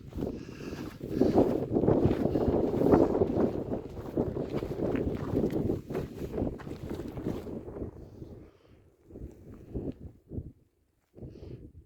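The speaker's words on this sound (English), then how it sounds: "The wind is really picking up though" Gusty mountain wind buffets the microphone atop Bishop Pass, loud and roaring for several seconds before easing into softer, intermittent puffs, with no talking.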